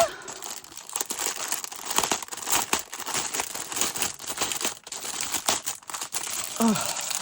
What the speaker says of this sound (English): I'm going to pull these drills out and they will never go in this plastic bag again